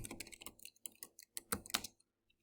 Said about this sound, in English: now I'm just going to type in web design